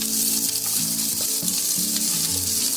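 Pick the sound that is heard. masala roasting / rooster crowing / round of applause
masala roasting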